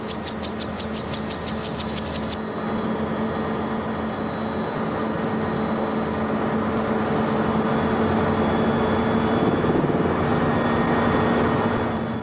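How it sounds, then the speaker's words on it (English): A heavily loaded South African Air Force military helicopter drones continuously with a rapid chopping rotor pulse at first, then settles into a loud, steady roar. "whether the chopper will be able to lift off with this heavy load of munitions or not"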